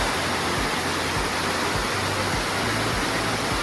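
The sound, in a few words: Bearden Falls waterfall cascading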